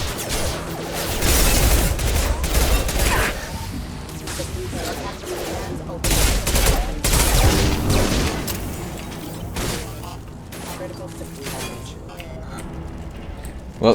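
Sustained firefight in Mass Effect 2 against combat mechs, with dense overlapping gunshots and booming impacts that stay loud and continuous, easing slightly toward the end, under music and game effects.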